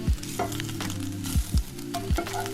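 A burrito heating in a pan sizzles steadily, with several sharp scraping and tapping knocks from utensils against the pan.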